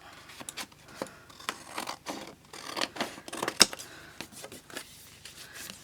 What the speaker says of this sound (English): now I'm just going to trim off around it.